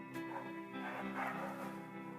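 A small dog barks and yips faintly, with a thin, high, whiny tone and no talking over it.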